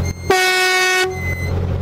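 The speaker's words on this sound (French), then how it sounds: "Vas-y, mais écoute, klaxonne, là." Horn of an old car brought back on the road after 32 years abandoned gives one steady, buzzy blast of about three-quarters of a second, close and loud, over quiet outdoor background.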